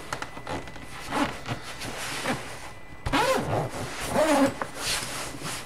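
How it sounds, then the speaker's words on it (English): A zipper runs around a board game bag holding larger boxes, giving a soft, repeated raspy sliding that comes in short strokes beneath a person talking nearby. "the zipper does go around it, no problem"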